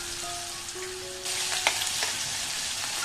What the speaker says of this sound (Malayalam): ഇഞ്ചി വെളുത്തുള്ളി പേസ്റ്റിൻ്റെ പച്ചമണം മാറുന്നത് വരെ ഒന്ന് ഇളക്കി കൊടുക്കാം